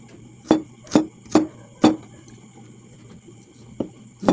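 Ginger and garlic are chopped with a knife on a board: four sharp, evenly spaced cuts, a pause, then two more, close and crisp with no talking.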